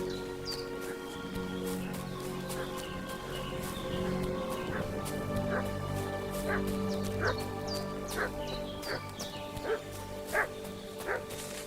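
A dog in the medieval video game Kingdom Come: Deliverance II barks repeatedly in sharp, irregular bursts over ambient game music, with occasional yips and whimpers, moderately close.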